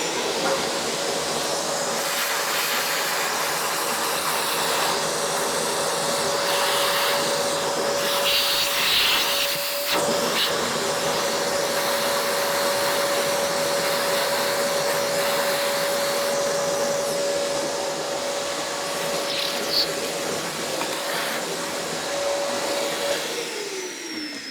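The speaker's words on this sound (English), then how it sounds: "we're going to suck it up with this hoover" A vacuum cleaner (hoover) sucks coffee grounds from the bottom burrs of a Mahlkonig E65S/GBW coffee grinder, a steady loud continuous whine with a constant tone, running alone throughout.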